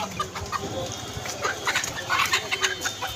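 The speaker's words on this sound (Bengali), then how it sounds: "দেশি মুরগি, দেশি হাঁস" Desi chickens clucking nearby, a rapid series of short clucks and squawks that grows busier toward the end, over low background noise.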